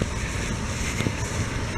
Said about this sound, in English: That's what I like about the battery blowers, y'all. You get to control the blow speed on it.